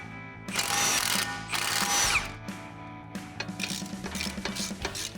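Power tool removing a lower ball joint bolt on a Nissan Frontier suspension, with several loud whirring bursts and ratcheting mechanical chatter close by, separated by short pauses.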